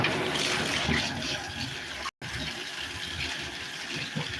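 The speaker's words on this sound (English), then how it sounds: "I'm using just warm water" Warm water runs steadily from a tap into a bathtub, a continuous near hiss and splash with a brief cut-out partway through.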